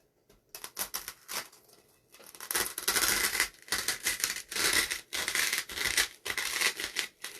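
Foam clay being cut in half produces a run of close, dry scraping and squishing cuts, short bursts at first and then longer sustained strokes in an uneven rhythm.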